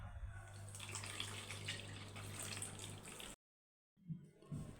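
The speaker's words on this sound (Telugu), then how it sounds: "6 గంటలు ముందుగా నానబెట్టిన వాటిల్లో నుంచి నీళ్ళన్నీ వంపేసుకోవాలి." Water poured off soaked grains for ragi idli, a steady splashing pour up close for about three seconds, then a brief silence followed by a few softer splashes.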